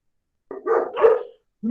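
A dog gives a pair of close, loud barks, followed by the start of another bark after a short gap.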